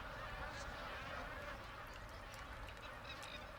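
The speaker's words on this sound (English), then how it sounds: "the thousands of magpie geese that fly into Lakefield to breed" Thousands of magpie geese gathered to breed at Lakefield honk faintly and at a distance, their calls blending into a steady wash of background noise.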